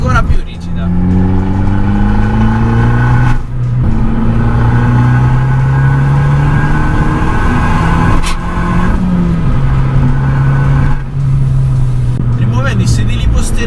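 An Abarth 500 Biposto with an Akrapovič exhaust revs hard, its engine note climbing and settling through several loud pulls with brief dips between them, heard from inside the car.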